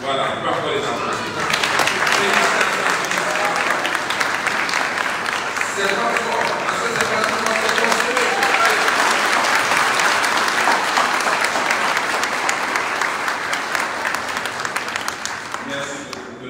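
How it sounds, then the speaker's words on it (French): A congregation at a Pentecost Sunday Mass in a church breaks into sustained, full applause lasting over a quarter minute, with someone talking over the clapping. "On peut encore les applaudir les filles."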